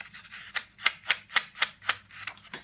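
Thin, lightweight Hammermill copy paper is rubbed and rustled close by in a rhythmic series of about eight crisp, soft swishes.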